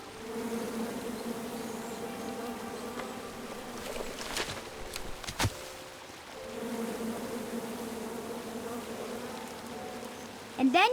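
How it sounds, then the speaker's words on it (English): Angry bees swarm and buzz around a tree in the King's Quest (2015) video game, a steady droning hum that dips briefly midway with a few sharp clicks, then resumes at full strength. "And then you chop down the tree full of angry bees?"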